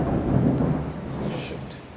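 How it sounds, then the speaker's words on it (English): Thunder rumbles low and heavy through a storm, a long rolling boom with rain hissing steadily underneath; nearby and fairly loud, with no talking. "Can you hear the lightning?"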